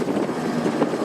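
Steady low rumble of a Ford Model T engine running while the driver moves through low, neutral and high gears; a continuous even drone with a few slight swells and no voices.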